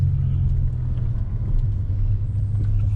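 A BMW E60 M5's engine runs with a steady deep low-pitched rumble heard from inside the car, constant and fairly loud throughout.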